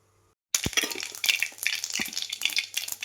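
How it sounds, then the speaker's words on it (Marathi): Mustard seeds dropped into hot oil in a kadhai for tempering a vegetable dish: after a brief silence, a sudden loud sizzle starts and continues with crackling pops and spits. "भाजीला फोडणी देण्यासाठी कढईमध्ये तेल ओतलेले"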